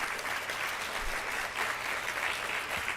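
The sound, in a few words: applause for panelists and hosts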